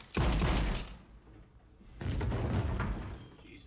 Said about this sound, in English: that was a loud thud